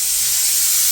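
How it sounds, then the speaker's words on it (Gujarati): A kitchen pressure cooker vents with a loud, steady hiss of escaping steam, heard up close and alone for under a second. "વાગી ગઈ છે સીટી કુકરની"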